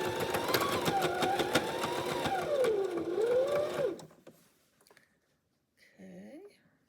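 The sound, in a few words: sewing machine stitching quilt binding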